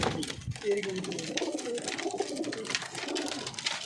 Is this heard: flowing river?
no